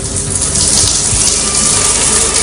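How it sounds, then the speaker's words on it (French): Shower water running steadily, a continuous broadband hiss of spray close by with no voices. "Bon, je prends ma douche, là."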